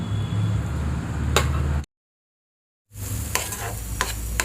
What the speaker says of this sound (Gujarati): હવે આને એકદમ ધીમા તાપે આપણે ફ્રાય કરવાનું